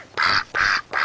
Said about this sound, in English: The male ducks make a raspy kind of noise.